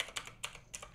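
Typing on a computer keyboard into the Windows search bar, a quick run of about five light, crisp key clicks in uneven rhythm, close and alone.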